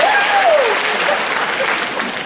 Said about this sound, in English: that might be the biggest applause.